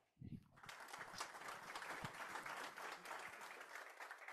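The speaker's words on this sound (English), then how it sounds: "Please give a big round of applause to Nicola." An audience at a Copenhagen IT conference breaks into sustained applause, a dense, even wash of clapping that swells quickly after a brief voice and carries on steadily to the end.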